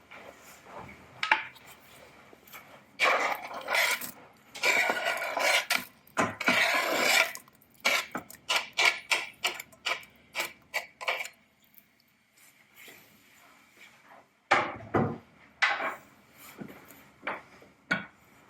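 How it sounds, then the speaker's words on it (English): Chopped onion is stirred in a pan with an old wooden spoon, giving soft irregular scrapes and knocks against the pan with quiet pauses between bursts of stirring. "I'm using my trusty wooden spoon, which is probably older than me"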